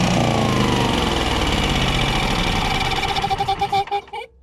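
A faulty motor runs close and loud with a steady, rough mechanical drone. It stutters into uneven pulses near the end as it shuts down, then falls silent.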